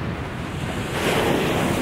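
Ocean waves wash steadily along the American east coast with wind buffeting the microphone, and the surf swells a little louder partway through.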